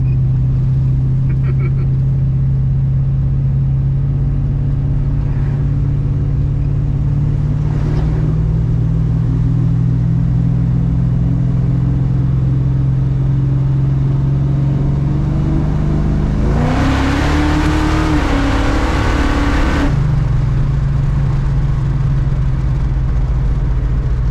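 Plymouth Cuda V8 engine running, a loud, steady low rumble throughout with a brief rise in revs near the end, heard up close as if from inside the car, with a voice speaking over it.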